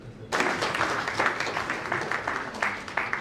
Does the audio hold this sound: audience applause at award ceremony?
yes